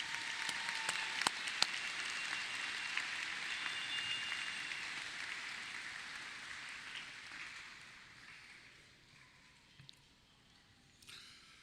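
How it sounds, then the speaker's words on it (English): Audience applause at a high school graduation ceremony, a broad, fairly distant wash of clapping that gradually fades out over about eleven seconds. "Please give her another round of applause."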